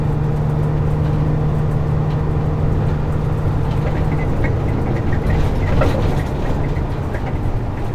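A truck engine drones steadily in 9th gear while driving, a loud low rumble with road noise and a faint whine, continuous with no voices.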